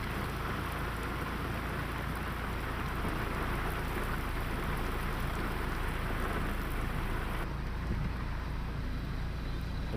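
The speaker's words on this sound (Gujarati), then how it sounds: "વરસાદી ઝાપટા પડ્યા" Steady rain shower pouring down over villages in the Jesar area near Bhavnagar, a dense continuous hiss of drops on surfaces that runs unbroken throughout, with faint low rumble beneath and no voices.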